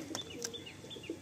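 Pigeons kept for sale on a rooftop give soft, low coos alongside a few faint high chirps, quiet and close, with no talking.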